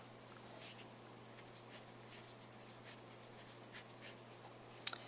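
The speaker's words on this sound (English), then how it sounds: "Then we write it out longhand." A pen writing out a dollar amount longhand on paper, faint close scratching strokes in short bursts with small pauses, ending in a sharper tap, with no talk.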